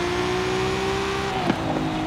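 An Audi RS6 or RS3 engine in the Forza Horizon 5 racing game drones steadily at a held pitch, then shifts with a brief flutter near the end, loud and close with no talk.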